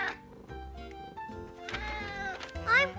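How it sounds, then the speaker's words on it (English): A cartoon cat meows in several drawn-out, tonal cries that rise and fall, close and fairly loud, with a brief higher squeal near the end and no talking. "This is a picture of a cat."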